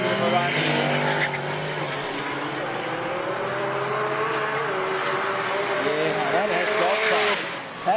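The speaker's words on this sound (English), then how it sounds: "That VR38 powered Datsun 1200" A VR38-powered Datsun 1200 race car on a time attack run screams through its gears with a high, strained engine note, sustained and fairly close with rising and falling pitch, over faint crowd and circuit ambience.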